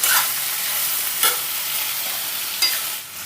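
Chutney ingredients with a small pinch of tamarind are stirred in a pan over the stove, giving a steady sizzling hiss with a few louder scraping strokes of the spoon, close and continuous with no talking.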